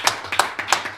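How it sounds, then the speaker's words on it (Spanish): Audience applause closing a talk-show interview: a short, fairly close burst of separate, uneven hand claps that rises and falls over one second, with no voices. "te vamos a despedir con un fuerte aplauso"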